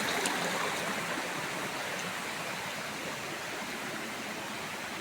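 A waterfall pours in a steady, dense rush of water with no pauses, moderately loud and unbroken for the whole stretch.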